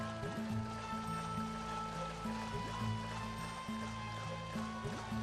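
Water flows steadily inside a tower in the PS2 video game Rogue Galaxy, a soft continuous rushing wash beneath sustained musical tones.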